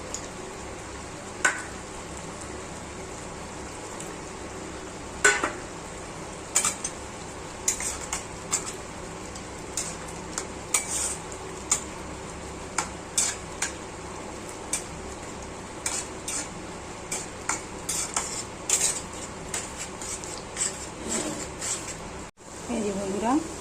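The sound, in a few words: paneer being stirred and sautéed with spices in pan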